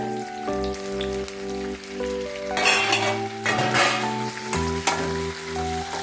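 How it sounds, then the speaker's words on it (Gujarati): Tomatoes tipped into a hot pan of shallow-fried, browned onions set off a burst of sizzling and frying hiss about halfway through, partly masked by steady background music. "હવે આપણે એમાં ટામેટા નાખીશું।"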